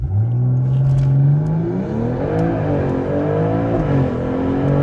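A BMW M340i G20 launches with brake boost at the Santa Pod drag strip. The engine holds a loud, strained drone, then climbs in pitch as it pulls away through the gears, close and dominant throughout.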